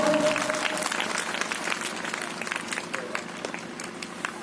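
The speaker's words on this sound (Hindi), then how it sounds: "तो आप भी सम्मान दें, थोड़ा तालियों का योगदान दें" A gathering at a village event with a saint and invited guests claps in their honor, the applause strongest at first, then thinning into scattered claps that fade over a few seconds.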